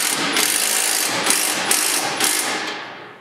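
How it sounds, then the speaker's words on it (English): A ratchet clicks rapidly in several back-and-forth bursts while tightening bolts on factory sway bar hardware of a Polaris RZR Pro XP, loud and close, with no voices. "Install the bolts onto the factory sway bar hardware and begin tightening down."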